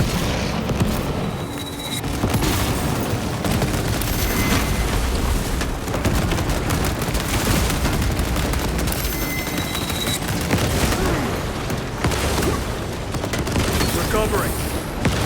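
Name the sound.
frag grenade explosion and gunfire in Warhammer 40K: Space Marine 2 (video game)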